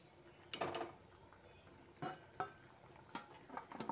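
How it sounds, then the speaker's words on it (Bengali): Boiled cabbage being lifted out of water with a strainer, giving a few scattered metallic scrapes and clinks against the pot, spaced irregularly over a quiet kitchen background. "এবার আমি একটা স্ট্রেনারের সাহায্যে কপিগুলোকে জল থেকে ছেঁকে তুলে নিচ্ছি।"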